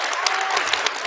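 A brief moment of applause for panelists at an economic justice event, a steady wash of crowd clapping with a few sharper individual claps standing out.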